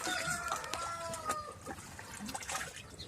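A hen clucks in short repeated bursts, fairly close, with occasional drawn-out calls and faint background noise.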